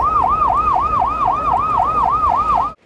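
Loud wailing ambulance siren on a road, sweeping rapidly up and down in a fast, even yelp for almost three seconds before cutting off abruptly, with traffic noise underneath and no voices.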